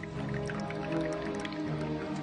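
Water dripping into the vessel of a scaled-up replica of Philon's ancient water-timed alarm clock, a steady liquid trickle and plinking with a resonant hum underneath, close and continuous.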